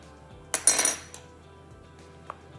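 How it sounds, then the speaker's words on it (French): Small spoons clink and scrape against a dish as apple compote is scooped into muffin batter. A short, bright metallic rattle is followed by a couple of faint taps in a quiet kitchen. "Vous prenez votre compote et vous la mettez au centre"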